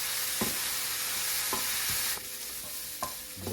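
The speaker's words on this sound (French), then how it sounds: "Dans les oignons, c'est important de les brasser aussi parce qu'on ne veut pas qu'ils viennent brûler." Chopped onions sizzle steadily in a hot pan, with a few distinct scraping stirs cutting through the continuous hiss at close range.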